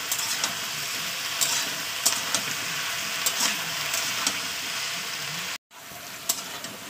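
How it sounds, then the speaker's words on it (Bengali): Boiled figs fry in hot oil for a fish curry, a dense continuous sizzle with scattered sharp crackles and pops throughout, briefly cut off near the end before resuming. "এবার এটাকে আমি তেলের উপর ভালো করে ভাজবো"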